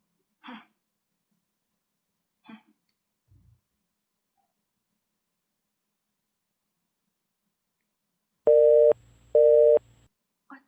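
Two short electronic telephone ring tones sound close and clear near the end of an unanswered phone call, spaced about a second apart, after scattered faint rustles and a quiet stretch.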